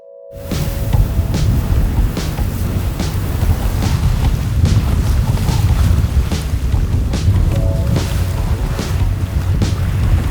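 Wind on a sailboat heading into a headwind against a current, a loud constant gusting rumble over the microphone with faint creaks, no talk.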